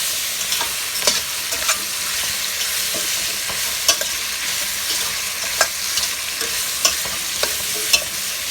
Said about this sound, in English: the only reason I'm sauteing this is not because you have to have it cooked before you blend it